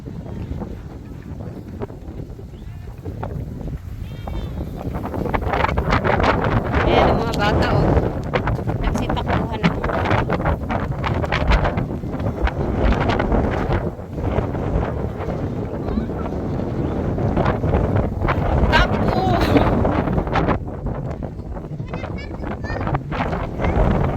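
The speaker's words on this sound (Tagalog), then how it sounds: "Yan, malakas ang hangin. Mas malakas kanina." Strong gusting wind buffets the microphone in loud, uneven surges with a low roar throughout, and voices are faintly present beneath it.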